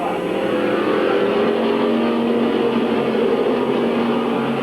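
Stock race cars race around Midvale Speedway, a dense, loud engine drone from several cars that stays constant and nearby with shifting pitch, alone without talk.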